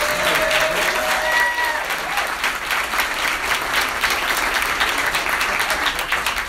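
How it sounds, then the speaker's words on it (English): An audience at Carolines comedy club applauds veterans in the crowd, loud sustained clapping with some cheering, filling the room from start to finish. "A round of applause for the vets here."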